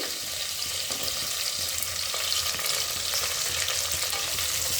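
Large onion pieces frying in a pan for soya chunk biryani, a steady close hiss of oil with occasional soft stirring scrapes throughout, no voices.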